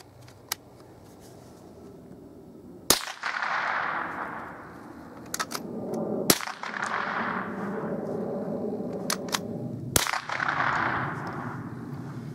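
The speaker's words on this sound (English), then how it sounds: "I'm going to put 5 shots on the big steel and I got 2 swingers out there" Three sharp .22 rifle cracks from a Hatsan Escort spaced a few seconds apart, each followed by a ringing metallic clang from a distant steel target, with several faint ticks between.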